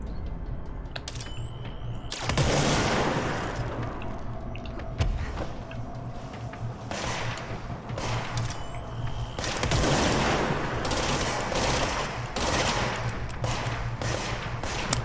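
Rapid gunfire from the video game Control cracks out in repeated heavy bursts with short gaps, loud and close, over a steady mechanical hum, with no talking.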